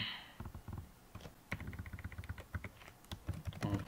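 Keys clattering on a computer keyboard in quick irregular bursts with brief pauses, close and fairly quiet, no voices.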